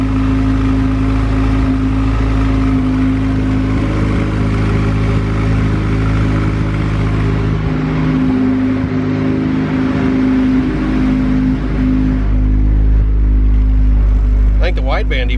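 A built turbo Honda B16 engine idles steadily in an EK hatchback with a side-exit exhaust, running a little rich. The drone is loud and continuous, and a few voices talk briefly toward the end.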